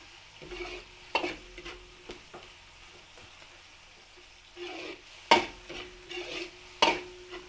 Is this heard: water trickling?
no